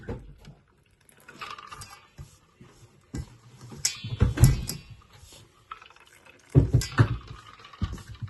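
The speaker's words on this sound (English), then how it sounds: "Add in my cold water now." Cold ice water is poured from a mug into a mixing bowl, with intermittent splashing and clinks in several short bursts amid quiet handling noises.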